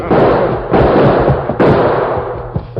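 Loud, sharp bangs burst out at intervals over a dense, noisy background, like a rapid exchange of gunfire in a street shootout, a radio drama sound effect.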